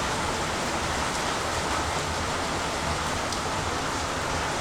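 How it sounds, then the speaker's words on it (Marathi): Heavy pre-monsoon shower falling on a village in Konkan with water pooling on the ground, a steady, full hiss of rain, close and unbroken from start to finish, without any talking. "सरीवर सरी पडतात"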